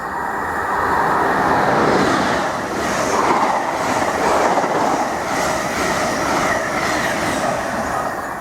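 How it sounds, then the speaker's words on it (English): An Ipswich to London Liverpool Street express of Mark III coaches passes close at high speed, hauled by a Class 90 locomotive. A loud continuous roar with rhythmic wheel beats swells over several seconds. "we've got a through train now from Ipswich to London Liverpool Street, worked by a Mark III set"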